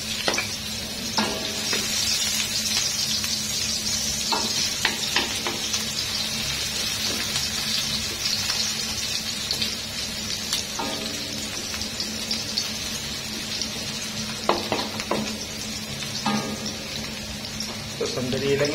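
Garlic and onion fry together in hot oil in a wok-style pan, a steady loud sizzle running throughout with occasional scraping stirs of a spatula against the pan.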